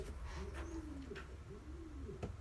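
A pigeon coos softly in repeated low, rolling calls against a quiet background hum.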